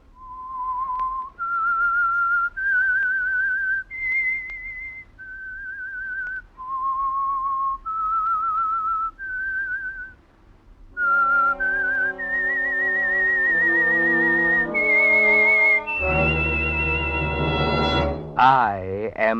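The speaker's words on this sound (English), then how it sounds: "That whistle is your signal for the Signal Oil Program" A person whistles a slow, eerie radio-drama signal theme of about a dozen sustained notes stepping up and down, and then an orchestra joins with a swelling chord; the whistling is clear and close.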